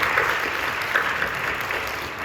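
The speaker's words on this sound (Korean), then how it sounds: "박수로 격려해 주시고 고맙습니다." Steady applause from a church congregation, a dense wash of clapping that continues evenly throughout at a moderate distance.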